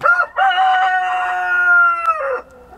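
A rooster crows loudly and close by at a concrete slab pour site, one long drawn-out cock-a-doodle-doo with a short clucking break before it and a trailing note after, no talk over it.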